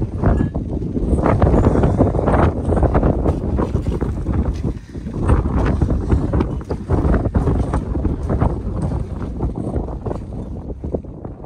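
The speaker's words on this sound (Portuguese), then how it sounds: "E tá um vento muito, muito forte, como estava previsto." Very strong wind batters a campsite high on Aconcagua mountain, roaring loudly into the microphone in continuous gusts, with a brief lull midway before it surges back.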